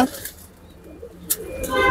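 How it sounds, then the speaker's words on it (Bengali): A short, soft coo from a Sirazi pigeon rises near the start, followed by quiet rustling and a couple of brief sharp sounds. "এই যে আপনার সিরাজি কবুতরটা, এই যে এইটা আপনার এই কবুতরটা"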